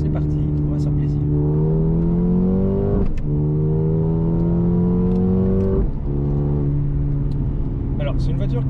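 A Mercedes A35 AMG sedan's 2-litre turbo four-cylinder engine revs hard as it accelerates in Sport Plus mode, pitch climbing steadily, dropping briefly at two gear changes around three and six seconds, then climbing again.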